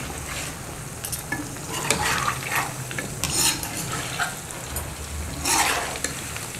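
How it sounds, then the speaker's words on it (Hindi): Chicken pieces for chilli chicken fry steadily in a pan over a low flame, a continuous close sizzle with occasional brighter spatters and the scrape of stirring. "तकरीबन 5 से 7 मिनट मैंने इनको फ्राई किया है। स्लो फ्लेम पर"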